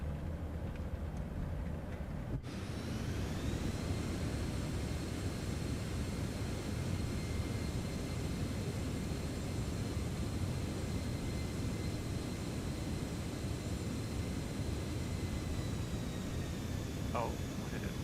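Citation X business jet landing on a runway in Microsoft Flight Simulator 2024, a loud steady roar of engines and rushing air with a faint rising whine near the end.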